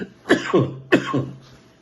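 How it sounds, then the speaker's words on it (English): Two sharp, close coughs, each a quick double burst, separated by a short pause. "Let me cough on that one."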